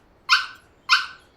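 A dog in an animated Filipino horror story gives two sharp, bright barks about half a second apart, close and loud against near silence.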